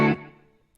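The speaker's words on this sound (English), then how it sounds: "it does go nicely with the flanger. And there's also a little bit of chorus on there and some delay and reverb" Guitar played through flanger, chorus, delay and reverb effects: one bright strummed chord that swells and then rings out in a long shimmering, fading tail, heard alone.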